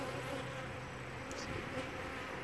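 Honey bees buzz in a steady, dense drone around a rejected queen, the hum filling the whole stretch with a few closer passes and no talk.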